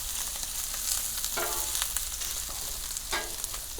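Sweetbreads searing in a hot pan, crackling and sizzling steadily at close range, with a few louder bursts of spatter and no talking.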